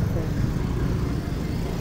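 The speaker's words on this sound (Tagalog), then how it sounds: "Dito lang to sa gilid ng highway guys." Steady roadside traffic beside a highway makes a low, continuous rumble of passing vehicles throughout.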